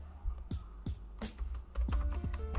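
A few quick keystrokes on a computer keyboard while entering a Linux terminal command, close and fairly soft, with irregular clicks over a low background hum.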